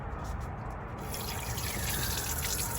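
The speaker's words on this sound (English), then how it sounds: "There's a lot of water that comes out of that one usually." Water pours from the drain plug opening of a V8 boat engine being winterized, a steady splashing gush that grows fuller partway through and continues without pause.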